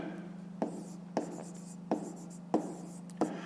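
Pen writing on paper while doing a fifth-grade maths exercise: five sharp scratchy strokes spaced about every half second to a second, close and fairly quiet over a steady low electrical hum.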